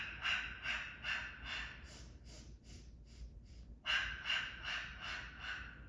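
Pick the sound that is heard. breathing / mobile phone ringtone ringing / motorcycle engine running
breathing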